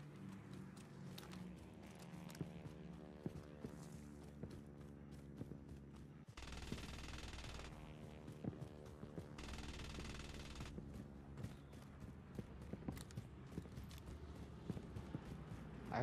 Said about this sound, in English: I heard someone firing.